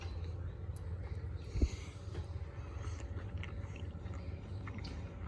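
Someone quietly chews a bite of homemade chicken enchiladas with southwestern sour cream, soft close mouth sounds and one sharper bite over a low steady background hum, without talk.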